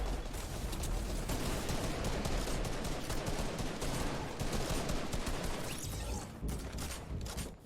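Dense, continuous gunfire from a Fortnite World Cup Finals match, rapid overlapping shots and mechanical clatter filling the whole stretch at close, loud range with no talk.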